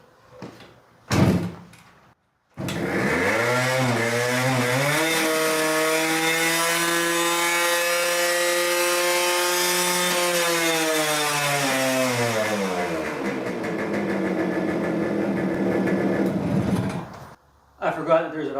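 Barn-find Kawasaki two-stroke motorcycle engine fires after a few clicks and knocks, then runs loud and close for about fifteen seconds, revving up and settling into a buzzing idle before cutting off, with a brief clatter at the end.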